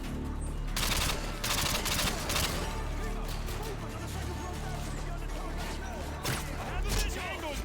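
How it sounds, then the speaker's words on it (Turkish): Rapid automatic gunfire from a weapon in Call of Duty: Modern Warfare 2 comes in loud, repeated bursts over a busy battle bed, with someone talking over it. "Bu arada bu silah çok güzel sekmeden vuruyormuş ha"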